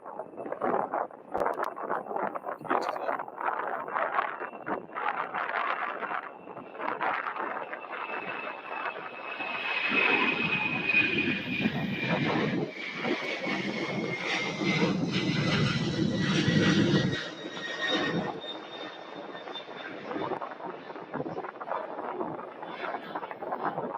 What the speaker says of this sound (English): here's another no-wingleted 767-300 for all of our no-wingleted 767-300 fans. And she's rolling fast, everybody.